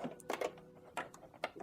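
A sewing machine runs a narrow zigzag stitch on thrifted T-shirt fabric, giving quick, close, rhythmic mechanical clatters in short bursts.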